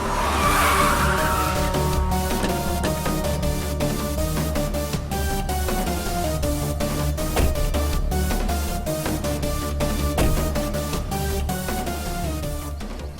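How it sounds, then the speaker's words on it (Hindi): A car pulls away hard with its tires skidding and squealing, a loud continuous engine roar and screech that lasts for many seconds with no talk. "भारत सर, गाड़ी निकालो।"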